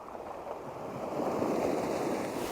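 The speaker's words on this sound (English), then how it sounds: "As you can see, it's kicking now. That wind is absolutely Baltic." Strong, cold wind buffets outdoors in a continuous broadband roar that swells slightly midway, close and fairly loud with no voices.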